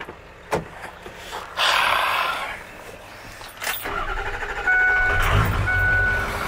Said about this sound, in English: I think I'll back in this flatbed too, just make it look easier